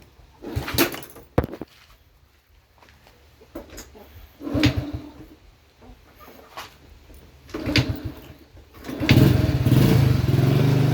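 Honda Dream motorcycle engine being kicked or cranked several times in irregular bursts, then catching and idling steadily near the end, close by with no talk.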